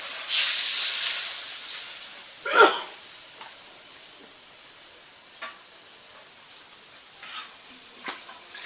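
A pan of fish masala fizzes with a brief sharp hiss, followed by a low steady sizzle and occasional faint scrapes as the spice mix is stirred and fried in a village kitchen.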